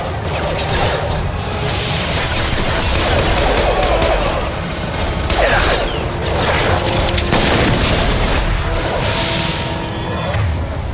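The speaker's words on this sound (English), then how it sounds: "Firing now." Sustained gunfire in Mass Effect 2, with dense bursts and booming impacts running loud and continuous through the whole stretch, plus scattered crashes layered over the shooting.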